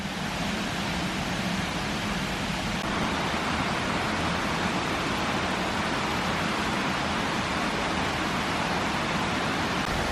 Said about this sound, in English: That's that trough that we saw earlier, running down into a waterfall.